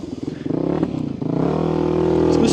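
A Voge 300 Rally enduro motorcycle engine revs up and pulls harder, a close, steady drone rising in pitch with some clatter, with no talking.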